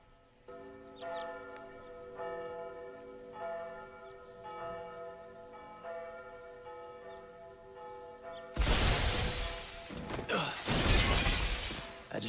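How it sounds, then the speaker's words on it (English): Glass is kicked out and shatters in the DMC: Devil May Cry video game, bursting loudly after a stretch of tolling church bells and crashing on for several seconds. "we'll be able to kick out of the glass right about now"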